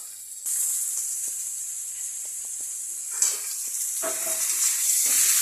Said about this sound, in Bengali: আর একটু ভাজা ভাজা হোক।